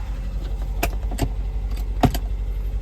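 A 2005 Honda Jazz with a CVT idles steadily in a low, continuous hum while the engine warms, broken by a few sharp clicks and rattles around the car.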